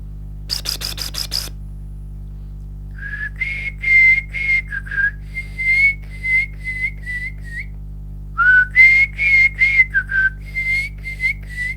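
A person whistles an imitation of a whistling thrush's call in Corbett National Park, a series of clear, close whistled phrases in two bursts after a brief clicking rattle, over a steady low electrical hum.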